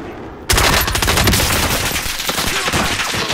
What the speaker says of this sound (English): Someone is shooting me.